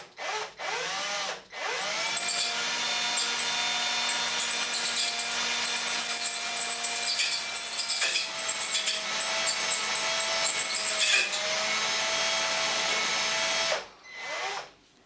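A drill grinds steadily into a stainless steel grub screw, a loud, high whining bore held for about twelve seconds after a couple of short starting bursts, then stopping abruptly with one brief restart at the end.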